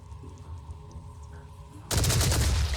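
A heavy soldier's gunshot fires in the video game Phoenix Point, a sudden loud burst that cuts in after a quiet ambient stretch and keeps booming to the end.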